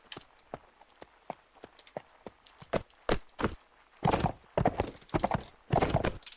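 Horse hooves clip-clop in the Mount and Blade Warband video game, a run of sharp, evenly spaced knocks that give way to louder, denser bursts of galloping hoofbeats, with a faint whinny possible.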